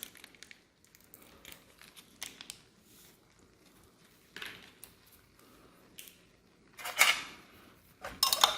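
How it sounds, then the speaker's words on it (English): A spoon stirs raspberry drink powder in an MRE pouch or cup, giving a few faint scraping clinks and crinkles spread out over the stretch, with a louder burst of rustling and clatter near the end. "Give it a quick stir."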